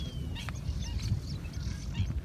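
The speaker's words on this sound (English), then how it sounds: "Seeing and hearing the birds chirp was simply surreal." Wetland birds at Densu Basin, Ghana, in the Sakumo Ramsar wetland, giving scattered honking and quacking calls over a steady low background rumble.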